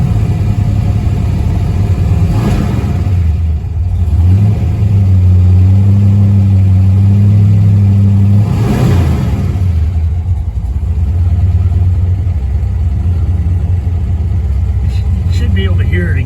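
A Max Wedge V8 with solid lifters runs loud and close, its rumbling idle rising into two broad revving surges and settling back to a steady, lumpy idle.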